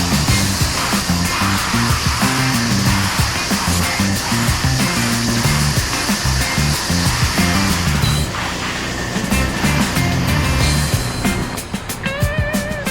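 A pressure sprayer applies house wash cleaner across a TPO membrane roof, making a steady, loud hiss that runs almost unbroken, with a brief shift in tone late on.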